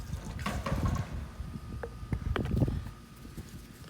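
Distilled water pours into a container for refining gold-filled pocket watch scrap, a brief splashing trickle with a few faint drips, fairly quiet.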